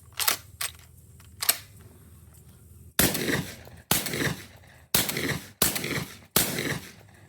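Remington 11-87 shotgun firing cheap Winchester Universal 7.5 shot, five loud sharp blasts spaced about a second apart, each followed by a brief decaying tail, after a few fainter clicks.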